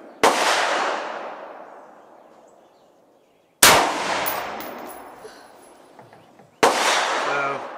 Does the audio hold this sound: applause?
no